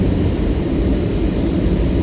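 Airliner cabin noise as the plane descends toward Da Nang airport in Vietnam, a loud steady low roar with broadband rumble throughout, no voices.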